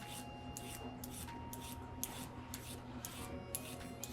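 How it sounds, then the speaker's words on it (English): A peeler scrapes along a carrot in long, repeated strokes, each a soft rasping swipe at a steady pace; quiet and close, with no talking. "we want to peel our carrot."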